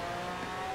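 A car engine in Forza Horizon 4 holds a steady, strained high-revving tone at the start of a race, loud and continuous with no voices over it.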